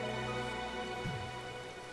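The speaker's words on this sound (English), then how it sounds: "So, and it's raining. How about that?" Steady rain falling in the platform game A Hat in Time, a soft constant patter with a faint low rumble partway through, no voices.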